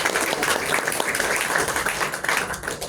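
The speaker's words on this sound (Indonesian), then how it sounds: "Tepuk tangan dong buat" Audience applause at an interactive civic dialogue on nationalism in Indonesia, a fairly dense spell of clapping from a crowd heard at moderate volume for a few seconds.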